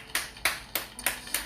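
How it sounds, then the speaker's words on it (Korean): A church congregation claps together in a few bright, sharp bursts of applause, each ending quickly, with no talking underneath. "주님 앞에 감사의 박수 올려드리겠습니다"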